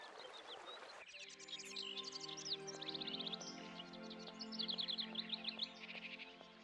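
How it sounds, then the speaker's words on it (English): Birds chirp and tweet in quick, bright bursts by a canal in the video game Syberia, over a steady musical background, repeating trills rising and falling throughout. "Ooh, birds! Hi, birds!"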